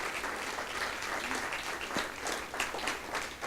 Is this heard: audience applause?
yes